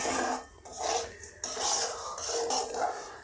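Semolina is stirred and dry-roasted in a pan for upma, with a spatula scraping through the dry grains in repeated rasping strokes, close and alone.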